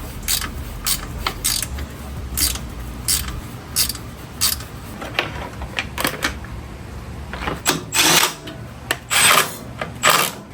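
A Milwaukee cordless ratchet working on a salvaged, crashed 2019 Suzuki GSX-R750 gives repeated short mechanical ratcheting bursts at close range, irregular and fairly loud, with the last few bursts longer and stronger.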